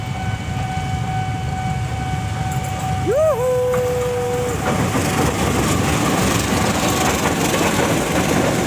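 A commuter train arrives from the Pasar Senen direction, a steady rumble of rolling wagons building toward the end, with a rising horn-like whistle in the middle and a brief voice.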